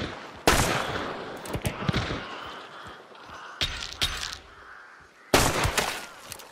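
Gunfire crackles in a shooting video game bounty hunt, with a few loud, sharp shots spaced seconds apart and smaller pops and clatter in between, no talking.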